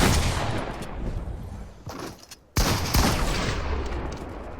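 Rapid bursts of gunfire in a video game sound loud and dense at first, thin out briefly, then resume with full force after a sharp break.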